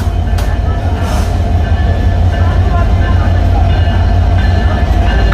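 Non-stop and semi non-stop trains crossing at Joydebpur station, heard as a loud steady rumble of rolling railcars close by, continuous throughout with a couple of brief high squeaks near the start.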